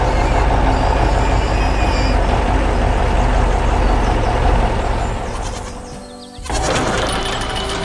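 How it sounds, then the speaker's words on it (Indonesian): A white animated truck's heavy engine rumbles loudly and steadily nearby as it crosses rough terrain, dipping briefly before roaring back up, with rattling and clatter over the drone. "Truk putih sedang melintasi medan yang keras."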